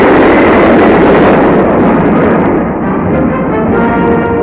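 An Atlas missile carrying a Mercury capsule is destroyed in flight, a loud, sustained roaring blast that rumbles steadily and then thins out slightly toward the end.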